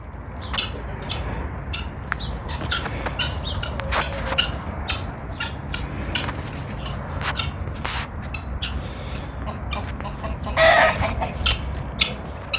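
Chickens cluck and chatter nearby while a rooster crows loudly near the end, with scattered bird calls and pigeons over a steady outdoor background.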